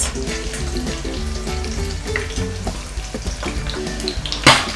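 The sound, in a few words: fish frying in oil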